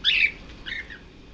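A Quaker parrot gives two short, shrill squawks close by, the first louder and the second softer, with a brief pause between them.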